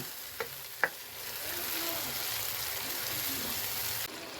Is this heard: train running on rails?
no